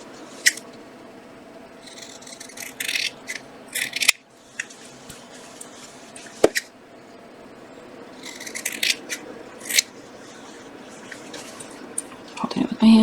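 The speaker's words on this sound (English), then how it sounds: "Going to get the giant scissors." Large scissors cutting fabric scraps at a sewing table, several bursts of crisp snipping and slicing, close and clear, with soft handling noises between cuts.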